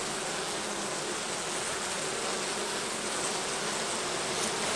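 Honeybees swarm around an opened hive while frames of brood are being inspected, a dense, even buzzing hum that fills the space steadily throughout without any talking.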